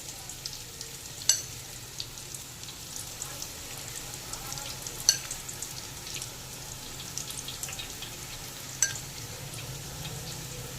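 Chicken kobiraji coated in an egg and cornflour batter fries in hot oil, giving a faint, steady sizzle with a few sharp pops and spatters standing out now and then.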